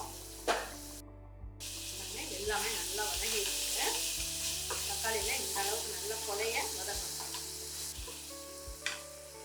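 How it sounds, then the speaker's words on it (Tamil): Three large tomatoes sauté in a pan for sambar, giving a steady close sizzle and frying hiss that holds for several seconds, with occasional sharp clicks from the spoon or pan. "இந்த மூணு பெரிய தக்காளியை நம்ம சேர்த்துடலாம் இது நல்லா வதங்கட்டும்"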